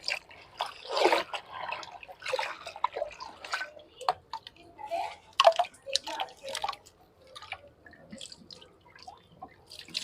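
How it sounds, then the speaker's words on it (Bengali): Leafy greens are being rinsed in hot water, giving irregular splashes, drips and trickles close by, with a louder burst of sloshing early on and softer dribbling afterward. "শাকগুলো ধুয়ে নি ভালো করে"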